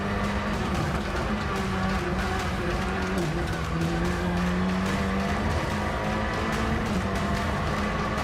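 Engine of an Alpine rally car at full throttle on a special stage of the 2022 Rallye du Touquet, a steady loud drone with shifting pitch and some tyre noise, continuous throughout with no talk.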